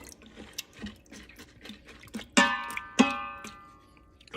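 Black lentils stirred with added water in a pot, giving soft wet sloshes and small clinks, then two sharper ringing knocks of a spoon against the metal rim, close and alone.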